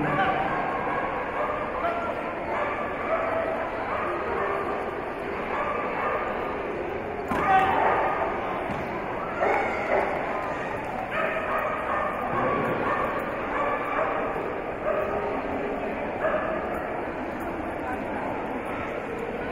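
At an agility competition, dogs bark repeatedly in sharp bursts, some close and loud, with yips and occasional thuds over crowd chatter and people talking.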